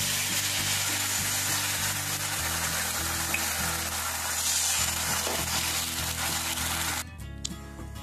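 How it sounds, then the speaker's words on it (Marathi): Rice-flour ghavan batter hits a hot nonstick tawa over a high gas flame and sizzles in a steady, close, dense hiss. A low hum runs underneath, and the hiss cuts off abruptly near the end. "तर यावर असं घावन टाकून देते मिश्रण।"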